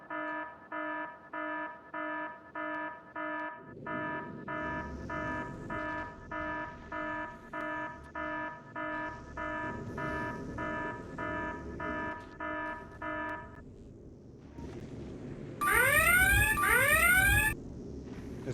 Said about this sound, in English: Okay, my alarm is working.